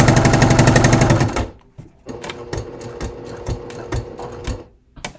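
A sewing machine topstitches leather for a bucket bag, with a loud steady run that stops near 1.5 seconds and then gives way to a string of slower, separate stitch bursts and clunks.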